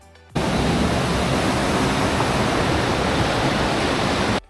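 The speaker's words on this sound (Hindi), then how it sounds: "पानी का बहाव और उसकी तेज आवाज इतनी अधिक थी कि हम अपनी बातचीत भी सुन नहीं पा रहे थे।" A loud, constant roar of rushing water from Kalu Waterfall, dense and unbroken, starting abruptly and filling the whole space.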